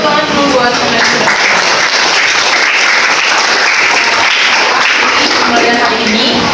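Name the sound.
applause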